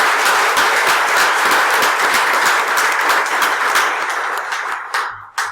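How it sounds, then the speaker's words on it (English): An audience at a welcome session gives a quick round of applause, sustained dense clapping that holds steady for several seconds and then thins out with a few final claps. "let's just have one quick round of applause for all that big team of people"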